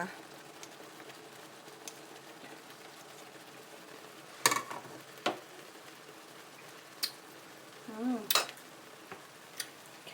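Fried chili paste with canned fish is stirred in a pan, giving faint, sparse scrapes and a few sharp clinks of a utensil against the pan, with quiet surroundings.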